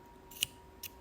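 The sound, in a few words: scissors cutting the knot of a beaded bracelet cord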